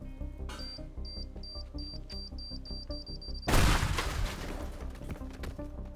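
Bombs blasting a tower apart in the destruction game Teardown: a sudden loud broadband explosion bursts in midway and rumbles off, over steady game music with repeated high beeps.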